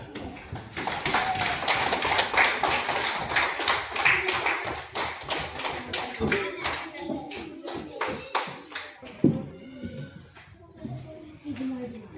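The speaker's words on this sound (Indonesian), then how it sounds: "Berikan kelompok 1 tepuk tangan." A group claps in quick, uneven bursts, loud and close, then the clapping thins out into scattered taps and shuffling as voices murmur underneath.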